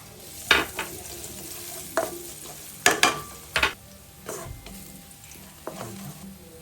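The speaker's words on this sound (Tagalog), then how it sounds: "Lagay na natin yung sibuyas and bawang." Onion and garlic hit a hot stir-fry pan for crispy tofu with bok choy, sizzling steadily while sharp scraping and clanking strokes of a spatula punctuate the frying at close range.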